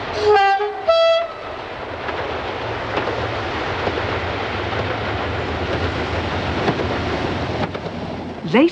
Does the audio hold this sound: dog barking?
no